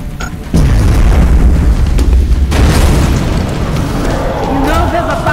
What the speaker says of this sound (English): Frag out!